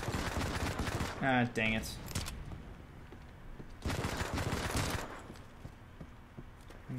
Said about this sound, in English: I heard, like, a silenced gun.